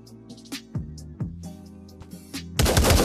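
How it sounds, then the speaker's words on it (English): Shotgun blasts ring out in the VR shooter Pavlov, several sharp gunshots in quick irregular succession amid game noise, ending in a dense burst of loud noise. "Oh wait, that's a shotgun."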